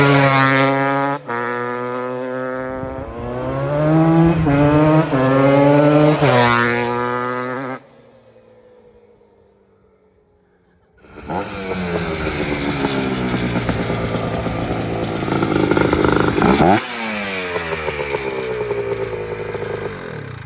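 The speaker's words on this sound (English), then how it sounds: "Man, it feels good to ride a 250R." A 1987 Honda TRX250R ATV engine while riding, loud buzzing two-stroke revs that rise and fall, drop away briefly, then surge back hard, close and alone without talk.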